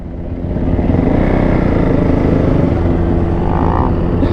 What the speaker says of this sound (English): Boy, working the mini bike.